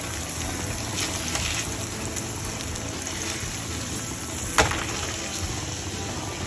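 A steak sizzles and fries in a pan, giving a steady close hiss of spitting fat throughout with one brief sharp crackle partway through.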